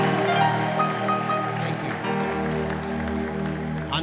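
Clapping and ululation from a church crowd at a 20-year anniversary conference, sustained applause under a layer of high trilling voices and musical tones, loud and continuous throughout.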